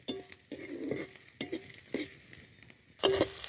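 Soaked kurdai dropped into a pan of fried onions for kurdai bhaji, giving short bursts of sizzling and stirring scrapes in several separate strokes, with a louder clatter near the end.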